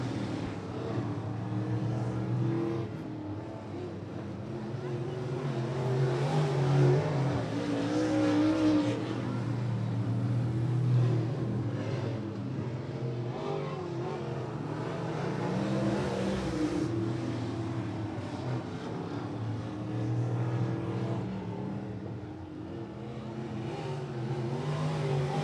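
Open wheel modified race cars running hot laps at Rockcastle Speedway, engines droning and revving continuously at a distance as they circle the track.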